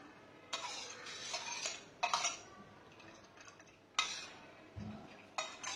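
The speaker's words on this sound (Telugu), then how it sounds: "ఇలా ఉండలు అస్సలు లేకుండా కలుపుకోవాలి." A utensil stirs a muskmelon mixture to work out lumps, giving intermittent scraping clinks against a bowl in short bursts with quiet pauses between them.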